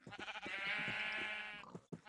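A single drawn-out, wavering sheep bleat sounds up close in Minecraft, nearly two seconds long, with no one talking.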